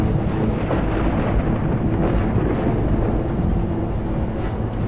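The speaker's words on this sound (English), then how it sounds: "passengers are growing concerned by the intensity of the storm" A violent thunderstorm with strong wind buffets an airliner on approach, producing a loud, unbroken low roar and rumble that lasts throughout, with no voices.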